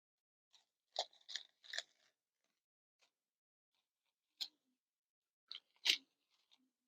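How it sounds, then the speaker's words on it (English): A pair of poor-quality scissors snips a thin strip of plastic in a pottery studio, giving several short, crisp cuts in quick clusters with pauses between, close and fairly quiet. "It's good to just take and cut yourself a thin strip of plastic."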